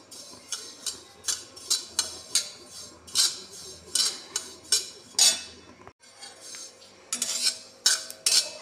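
Sesame seeds dry-roasting in a pan, stirred with a metal spoon that clinks and scrapes against the pan in a quick, uneven rhythm, fairly close and with no voices.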